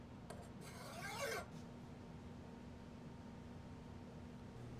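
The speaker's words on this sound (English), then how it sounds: "a file would be really beneficial to smoothing that over and making it look just a little bit sharper" Hand file rasping across pitted metal on a restoration piece, a short burst of scraping strokes near the start, then quiet.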